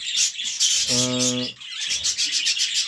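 Pet birds and chicks chatter in a continuous high chirping chorus nearby, broken by one low harmonic squawk-like call near the middle.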